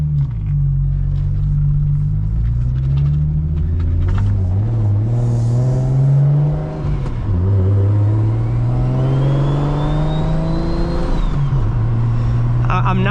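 Engine of a single-turbo BMW N54 335i while driving, repeatedly revving up and easing off with deep rising and falling tones, loud and close, plus a whistling rise near the end.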